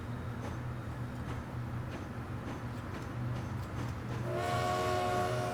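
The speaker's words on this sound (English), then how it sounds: "Train number 2, please." A train runs in the Transport Fever simulation game, a steady rumbling drone with a rising horn or whistle-like tone entering near the end, no talk.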